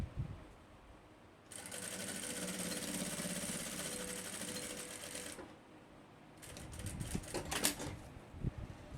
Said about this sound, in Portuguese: ao costurar o elástico aqui, gente, vocês têm que colocar um ponto largo e esticar ele